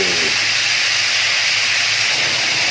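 Loud, steady hiss of plain water added to a hot pan while stir-frying crispy snakehead fish with chili paste, a broad sizzling wash that holds constant from start to finish with no talking over it.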